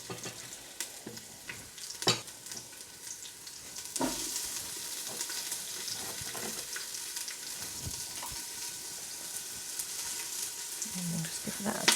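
Roughly chopped onion hits hot oil in an Instant Pot on saute mode, a few scattered knocks and pops giving way to a steady, moderately loud sizzle that builds and holds to the end.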